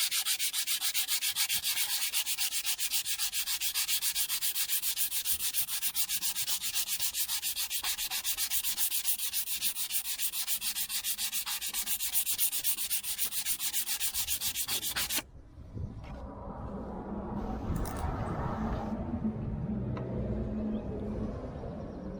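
Close, continuous abrasive rasp of wet sanding a painted surface with 1200-grit paper before lacquering, running steadily and then stopping abruptly, followed by quieter rubbing and handling noise.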